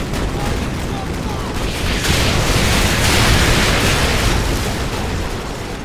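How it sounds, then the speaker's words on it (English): Heavy explosions and rolling blasts in the Modern Warfare 2 video game, a sustained dense roar of booms and crackling debris that swells in the middle, loud and continuous with no clear pauses. "Let's see the fireworks."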